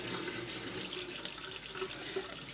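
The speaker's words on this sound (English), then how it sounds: "I'm going to run the water to get the temperature that I want" A tap runs steadily into a sink, a continuous hissing splash of water at close range that holds an even level throughout, with no voices.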